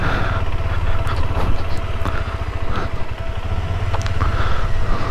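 A KTM 390 Adventure motorcycle riding over Sach Pass, its engine droning steadily and loudly throughout with a continuous low rumble and some wind and road noise, no voices.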